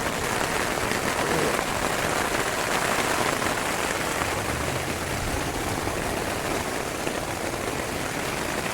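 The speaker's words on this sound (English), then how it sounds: "This is what you get when you get a bunch of rain." Heavy rain pours down steadily on a bikepacking trip along back roads between Ogden, Utah and Ashton, Idaho, a dense, constant hiss that fills the scene from start to finish, with no talking.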